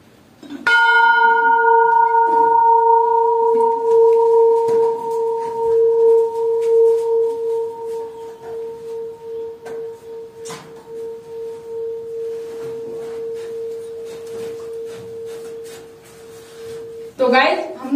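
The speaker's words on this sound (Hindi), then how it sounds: "ये घंटी जो है ना एक बार बजाने से बहुत देर तक इसकी आवाज आती है।" An unusual temple bell is struck once and rings with a long, pure sustain that hums steadily and fades slowly over many seconds, with faint outdoor noises and soft clatter around it.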